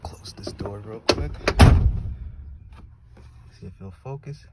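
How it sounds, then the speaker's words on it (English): A Ford F-250 pickup's door swings shut with a solid thunk midway through, amid nearby voices talking before and after. "close this door real quick"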